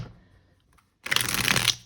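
A deck of tarot cards is shuffled by hand at close range, first a soft riffle and then a loud, dense burst of rapid card flutter with no talking.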